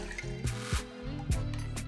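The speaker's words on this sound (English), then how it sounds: "Then I'll pour about 2 cups of water" About two cups of water pour into a pot of salted turkey wings, a soft splashing gurgle with a few bubbly pulses, close and fairly quiet.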